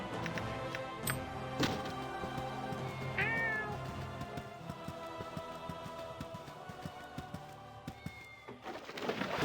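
In Baldur's Gate on Switch, a cat gives a single short meow partway through, fairly faint among busy ambient game noise, light taps and clicks, with no voices.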